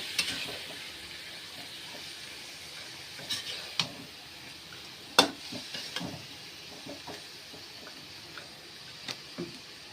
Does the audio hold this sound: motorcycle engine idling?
no